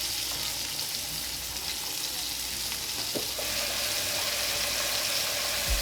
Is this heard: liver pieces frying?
yes